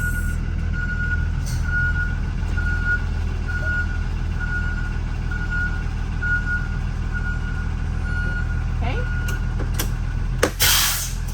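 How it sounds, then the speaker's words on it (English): A school bus reverses slowly, its steady, evenly spaced backup beeps sounding over a low idling diesel rumble, ending with a sharp hiss of the air brakes. "I'm going to move back a little bit so that I'm on pavement when I check the rest of my bus."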